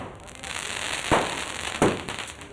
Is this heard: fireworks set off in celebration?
yes